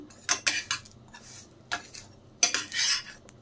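While cabbage paratha fries in ghee on a pan, a spatula flips it with a few sharp, close metallic taps and scrapes in quick bursts; no one speaks.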